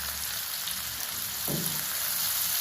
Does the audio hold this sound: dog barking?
no